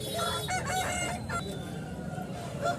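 Country chickens and roosters at a weekly market in Anantapur crow loudly and repeatedly, close by, over a steady din of clucking birds and a busy crowd murmuring in the background.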